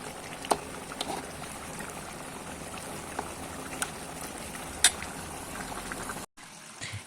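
Steady, dense sizzling and bubbling of ginger garlic paste frying in hot oil in a pan, with a few sharp pops, cutting off abruptly near the end.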